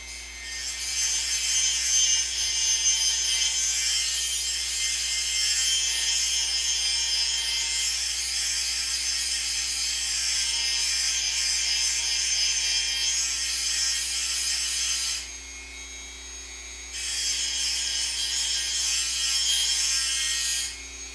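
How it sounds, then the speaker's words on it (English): A Dremel fitted with a small grinding stone shapes the primary bevel of a crooked carving knife blade, a continuous close, loud, high abrasive whir that drops off briefly near the end before resuming. "I've got a small grinding stone in my Dremel tool here, and I'm going to use that to carefully shape my primary bevel"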